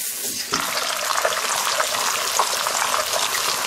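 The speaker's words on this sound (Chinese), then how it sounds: "这下面稍微多煎一会" An extra-large fish head sizzles and crackles in plenty of hot oil in a wok, a dense, steady frying hiss close by that swells slightly after the first half second, no talking.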